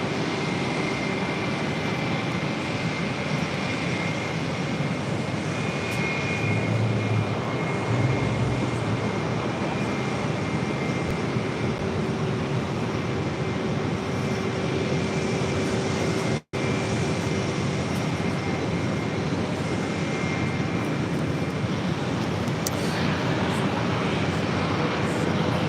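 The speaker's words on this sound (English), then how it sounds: "Pushing back, that is Delta Airlines flight 2094 heading to New Orleans in an A319." A Delta Airlines Airbus A319 pushes back at JFK, its engines making a steady, loud, continuous roar, with a brief break partway through and no voices.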